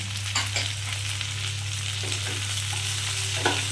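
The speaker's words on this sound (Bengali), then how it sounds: "একসঙ্গে এগুলো ভাজতে থাকলাম।" Chopped tomatoes with potato and pointed gourd sizzle steadily in hot oil over high heat, a continuous close frying hiss with a low hum beneath and a few soft stirring scrapes.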